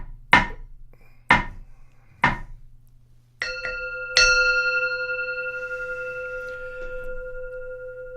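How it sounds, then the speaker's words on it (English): Three sharp wooden knocks are followed by two strikes of a meditation bell during a live Zen service, its clear tone ringing on and slowly fading. "Hearing the sound of the bell, all thinking is cut off."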